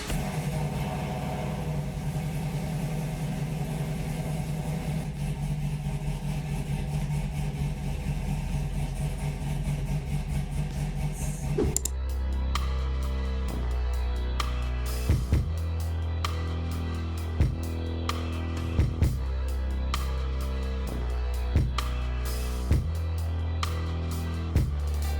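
A cammed truck engine idles, then turns over and catches about halfway through, settling into a loud, lumpy, rhythmic idle with sharp periodic pulses.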